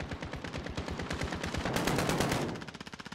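Rapid automatic gunfire from Call of Duty: Modern Warfare multiplayer, a dense rattling burst of many close shots that swells louder in the middle and then thins into quicker, evenly spaced pops at the end.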